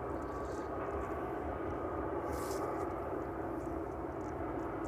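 A Ryanair jet airliner near East Midlands Airport in the evening, a steady, broad engine roar at moderate distance that holds level throughout, with no talk.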